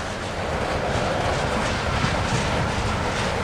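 A CSX freight train hauling ethanol tank cars enters a siding, heard as a loud, continuous rumble of rolling railcars close by.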